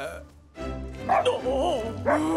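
A cartoon dog yips and barks in an animated children's firefighter show, a few sharp excited barks with whimpering tones, close and loud, with some voiced speech overlapping.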